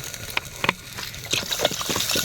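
Water pours into a pot of crab curry cooking outdoors in Ballari, a short gushing splash in a few uneven bursts lasting about two seconds, close by with no voices.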